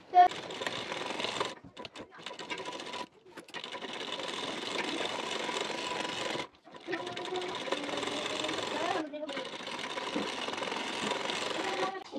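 A sewing machine stitches a blouse sleeve onto the shoulder, running in long steady bursts of rapid whirring clatter separated by brief pauses, close and clear.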